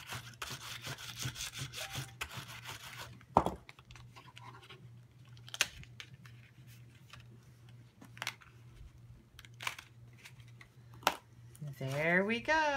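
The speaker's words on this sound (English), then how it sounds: "I am going to bring in my Big Shot die brush and get all these little pieces out." A Big Shot die brush scrubs and scratches over a die-cut paper piece, light brisk rubbing strokes with sharp scraping taps, close and fairly quiet, alongside a speaking voice and faint hum.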